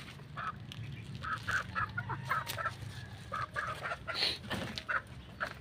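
Chickens cluck softly while feeding on banana leaves placed in their coop, a busy flock of close, overlapping short clucks and murmurs with no talk.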